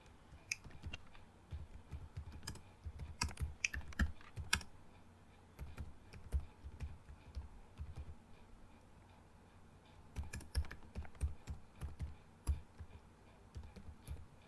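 Typing on a computer keyboard while entering a Python program, with irregular bursts of close, crisp key clicks separated by short pauses.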